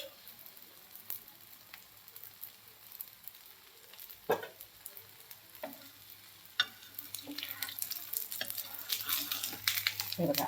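Tosha bhakri, a Konkan flatbread of cucumber and semolina, fries on a tava as oil is poured around it, a faint crackle at first, then a few pops before the sizzle swells louder and busier toward the end.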